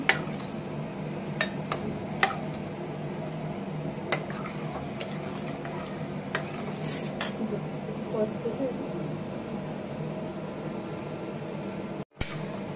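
Peas, cauliflower and potatoes sautéed with spices in a cooking pot for veg dum biryani, with a soft fry under scattered clinks and scrapes of a spoon against metal, ending in a short dropout.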